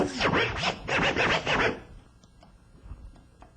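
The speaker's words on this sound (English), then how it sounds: "the ending of the pattern is me manipulating the snare on the right turntable" Turntable scratching manipulates a snare sample in a rapid burst of five or six raspy back-and-forth scratches, loud and close, then drops to quiet faint clicks.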